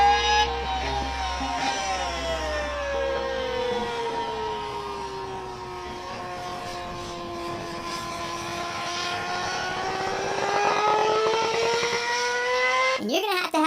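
A BMW HP4 motorcycle engine runs loud and steady, its tone sweeping slowly down and back up as revs shift, ending with a sharp burst at the close.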